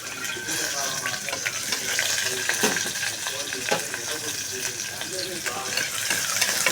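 Onions frying in hot oil after cinnamon, sizzling loudly and steadily as they turn golden, with repeated stirring scrapes and a bit of background movement throughout.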